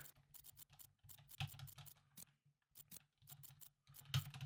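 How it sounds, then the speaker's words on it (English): Rapid, uneven clicks of typing on a computer keyboard, close and quiet, with short pauses between bursts of keystrokes. "Enjoy the typing sounds."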